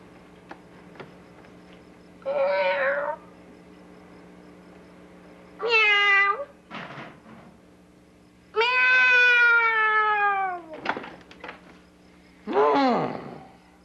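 Several cats meow one after another, four or five drawn-out cries separated by short pauses, close and fairly loud against a faint hum.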